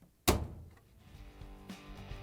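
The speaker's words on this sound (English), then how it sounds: "And now we can proudly close the door." A single solid thunk as a Whirlpool dryer door is pushed shut after a door seal replacement, followed by a quiet hum and faint rattles.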